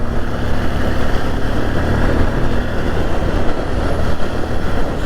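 A 2022 Bajaj CT 125X motorcycle with an under-square 125cc engine runs steadily while riding, giving a continuous loud drone mixed with wind and road noise, with no talking.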